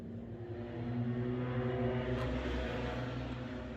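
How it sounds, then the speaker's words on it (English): A loud truck drives by outdoors while tacos are made, a steady low engine rumble that swells in the middle and eases off slowly, with no talk over it. "As a loud truck drives by."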